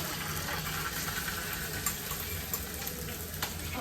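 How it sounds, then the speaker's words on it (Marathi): Cumin and mustard seeds crackle and sizzle in hot oil for tempering, a steady hiss with scattered sharp pops, close up and without talk. "फोडणीसाठी तर जिरी मोरी तडकली आहे"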